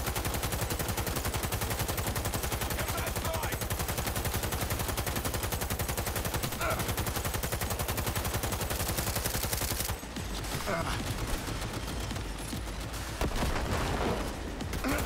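Sustained machine gun fire in the video game Cyberpunk 2077 hammers out a fast, unbroken stream of loud, close shots for about ten seconds, then gives way to scattered, lighter bursts.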